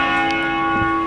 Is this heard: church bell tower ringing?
yes